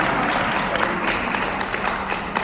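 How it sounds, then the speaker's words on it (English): Audience applause at a business convention as Dr Puleng Makhoalibe of Henley Business School Africa walks to the stage: steady, dense clapping from a large crowd throughout, with no talk over it. "Won't you keep clapping till she comes to the stage?"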